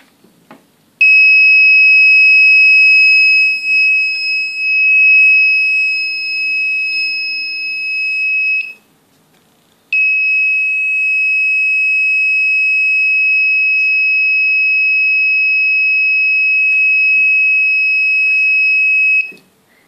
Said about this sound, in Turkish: 40'ın üstüne çıkınca buzzer'ımız ses çıkarıyor